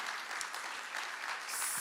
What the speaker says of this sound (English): I just want everyone to give our panelists a round of applause